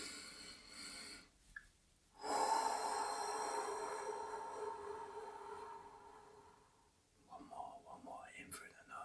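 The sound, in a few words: deep breathing in through the nose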